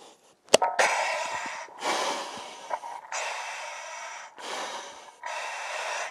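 Loud, hissing breaths through a firefighter's air mask, in and out in a slow rhythm, each inhale a long rushing whoosh with short pauses between, after a sharp click.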